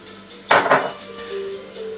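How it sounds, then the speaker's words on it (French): Eggs cracked against a bowl and dropped in while making rousquilles: two sharp, close knocks in quick succession, followed by quiet kitchen sounds. "Donc, on rajoute"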